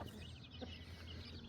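Faint, soft clucking of a hen, a few low murmured notes over a quiet background hiss, with no one talking.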